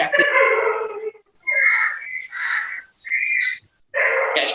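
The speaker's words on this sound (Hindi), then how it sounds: "जिसके यहाँ कुत्ता भौंक रहा हो" A dog barks and howls through an unmuted microphone during an online discussion, several loud close bursts separated by short silences.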